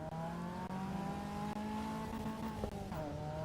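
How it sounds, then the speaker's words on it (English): A race car in the Assetto Corsa EVO video game holds a steady, droning engine note with faint tire noise, running continuously and fairly quietly, with no voices. "You can listen to the sound of the car now a little bit."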